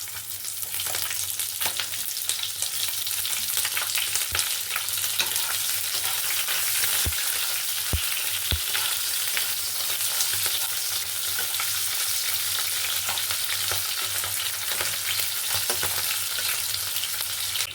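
Whole cumin, green chilies and a large halved, separated onion sizzle steadily in hot oil as a spice tempering for an okra dish, with a dense, continuous crackle and occasional sharp pops and stirring clicks, no voices.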